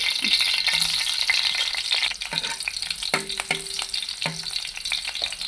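Cumin seeds and garlic fry in oil, crackling loudly at first, then easing into lighter sizzling broken by several metallic clanks and scrapes from stirring.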